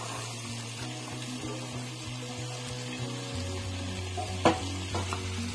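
Beaten egg fries in a pan while being stirred, a soft continuous sizzle under a low steady hum, with a couple of sharper spoon knocks near the end.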